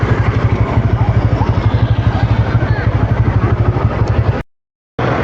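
Many bikers' motorcycles idle and rumble together at a crowded superbike delivery, a loud, steady low throbbing engine drone with clatter that cuts out abruptly near the end.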